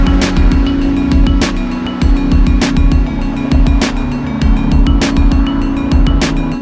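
2017 Honda Civic Type R with three center-mounted exhaust tips and a center resonator, loud and close, a revving engine note with rhythmic pulsing bursts.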